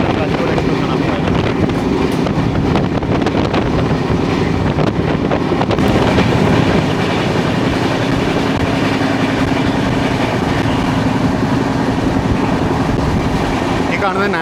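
The Murudeshwar Kacheguda Express rushes past with a loud, continuous rolling rumble mixed with heavy wind buffeting.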